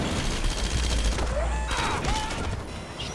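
Gunfire in the video game Red Faction Guerrilla, with continuous firing and crashing over a dense rumbling battle din, no voice on top.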